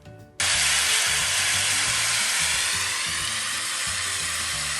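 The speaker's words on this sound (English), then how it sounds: "That was the sound of rain." Rain pouring down in a sound-guessing game, a sudden onset of dense, steady broadband hiss that stays loud and even, with faint low rhythmic thuds beneath it and no talk.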